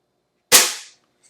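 A single sharp crack from an Umarex Trevox air pistol fired on a 10 meter range, close and loud, decaying quickly into silence with a faint tick just after.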